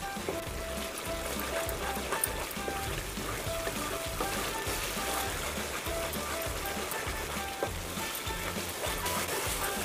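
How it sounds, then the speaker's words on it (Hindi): Masala with ginger-garlic paste, salt and green chillies fries in hot oil in a pan, a steady, close, crackling sizzle that continues evenly throughout with no speech. "मसाले को हम अच्छे से भून लेंगे।"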